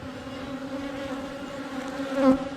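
Honeybees buzz steadily inside an opened top bar beehive, a close, continuous hum that swells slightly near the end, with no voices.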